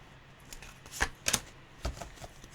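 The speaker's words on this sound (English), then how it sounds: "Let's try the underhand shuffle." A deck of tarot cards is shuffled underhand, making a few soft, crisp riffles and taps close by against a quiet background hiss.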